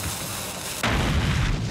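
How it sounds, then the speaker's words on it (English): A film explosion from The Terminator (1984) bursts in as a sudden loud, broad boom that cuts through a quiet background and then rumbles on steadily to the end. "that's gonna make a big bang"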